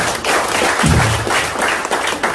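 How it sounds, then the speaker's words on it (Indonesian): A seminar audience breaks into loud, dense clapping that fills the room, a continuous wash of applause with a brief low thump partway through. "Tepuk tangan buat Mas Ahmad ya."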